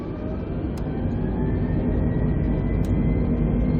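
Jet engines of an Airbus A320neo at flex takeoff thrust roar steadily on the runway at La Palma, a broad, sustained rumble that swells slightly with no voices.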